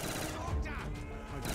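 Rapid sustained automatic fire from a Death Machine minigun in Black Ops 3 Zombies, a dense continuous burst lasting the whole moment, loud and close.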